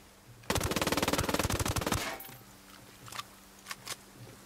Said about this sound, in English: Because I can see your bullets flying.